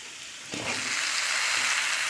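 Potatoes fry in a pan. After a brief quiet moment, a loud, steady sizzle of hot oil rises and keeps crackling evenly to the end.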